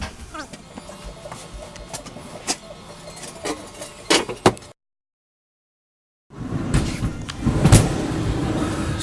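Car seat slid back along its track, a few short scraping clicks and knocks near the mic while a person talks, broken by a gap of silence midway.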